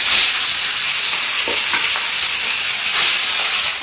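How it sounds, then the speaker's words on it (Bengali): Pieces of a large katla fish fry in well-heated oil, giving a loud, continuous sizzle and crackle close by, with a few sharper spits and pops and no talking. "এখন মাছগুলো ভেজে নেব।"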